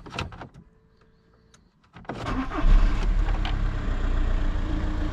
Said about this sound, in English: Just started the car up and no flashy light anymore.